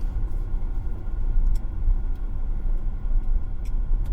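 Inside a car on the road away from the Lancelin sand dunes near Perth, a steady low engine and road rumble fills the cabin, with faint ticks above it and no voices.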